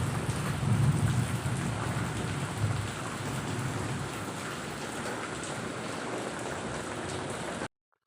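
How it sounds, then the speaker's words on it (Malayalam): Steady rain pours outside a Kerala home's yard, a dense continuous hiss with a heavier patch early on, running unbroken until it cuts off abruptly near the end. "മഴയൊക്കെ കുറഞ്ഞാണ്ട് കേട്ടോ"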